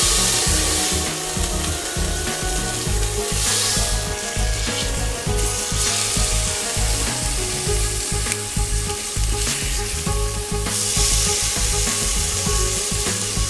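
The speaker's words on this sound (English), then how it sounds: "Now we're ready to sear the meat using the saute function." Meat searing in canola oil in a stainless steel Instant Pot on saute, a steady loud sizzle and crackle running unbroken throughout with no talk.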